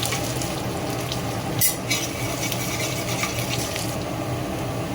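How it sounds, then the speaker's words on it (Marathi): Chopped garlic frying in oil with cumin seeds and a pinch of asafoetida for a homestyle tondli vegetable dish: a steady soft sizzle and crackle runs throughout, with one brief louder clink of stirring. "लसूण छान असा ब्राऊन होईपर्यंत तेलामध्ये फ्राय करून घ्यायचा आहे"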